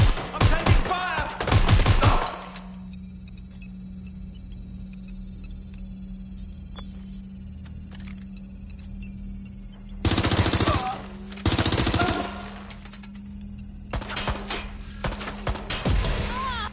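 Bursts of automatic gunfire in the Watch Dogs game, loud rattling volleys at the start and again near 10, 11.5 and 14 seconds, separated by a quiet low hum.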